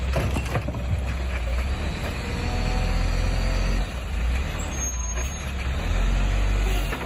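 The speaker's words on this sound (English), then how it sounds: "I could do a manual trash faster than this truck is going." A garbage truck rumbles along in a steady low drone with faint hissing and clanking, heard from close by with no talk.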